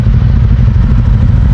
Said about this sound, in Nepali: बाइकहरू कोल्ड स्टार्ट भइरहेको छ